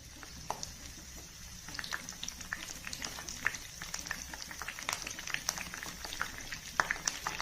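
Dried red chillies and curry leaves sizzling in hot oil with mustard and cumin seeds for mango thokku, a steady fine crackle with scattered pops, quiet and close.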